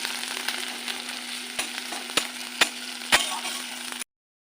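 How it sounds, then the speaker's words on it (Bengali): Chopped onions frying in hot oil tempered with bay leaf, dried chilli and cumin, a steady close sizzle broken by several sharp spatula knocks, ending abruptly in silence. "পেঁয়াজটা একটু ভেজে নেব।"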